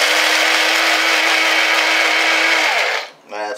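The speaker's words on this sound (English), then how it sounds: "we got the crackers in here, so we're gonna grind those up." Crackers being ground for homemade catfish bait, likely in a blender, whir in a loud, steady buzz for about three seconds, then cut off and briefly restart.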